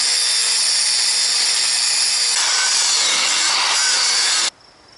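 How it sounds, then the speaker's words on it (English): A spring shackle bolt on a Silverado being cut through, a loud continuous grinding-saw rasp up close that runs unbroken for several seconds before stopping abruptly. "But first I got to cut this bolt here."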